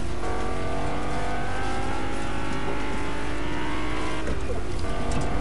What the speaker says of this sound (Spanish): Chao, me voy con el coche.